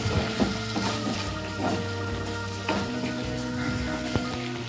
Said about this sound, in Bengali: তো এরপর আমরা ভালো করে আবার এটাকে কষিয়ে নেব।